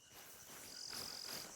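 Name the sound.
frog calling in video game theHunter: Call of the Wild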